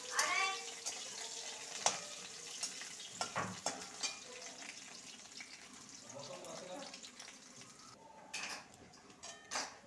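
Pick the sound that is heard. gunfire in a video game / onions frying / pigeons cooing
onions frying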